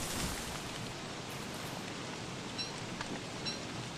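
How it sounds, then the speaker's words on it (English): Steady, faint rain in Don't Starve forms a continuous hissing wash with no other distinct sounds, holding an even level for the full stretch. "And it's raining pretty good."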